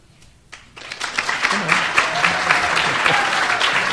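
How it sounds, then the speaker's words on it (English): An audience at the 2015 Teen Safe Driving Summit applauds its speakers after a discussion. Clapping starts after a brief quiet moment, then builds into steady, full applause that continues to the end. "I'm sure all that applause was directed at all the speakers"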